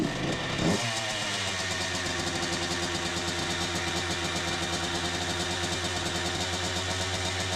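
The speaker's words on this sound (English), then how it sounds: "Start the engine, let them run, and check for leaks." A 1989 Honda CR125 two-stroke motorcycle engine fires up after a brief start and settles into a loud, steady, buzzy idle close to the microphone, with no talking.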